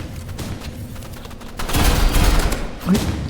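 Gunfire striking the player in the video game Roblox, a rapid burst of shots and heavy thuds swelling loudly midway, with a voice briefly heard.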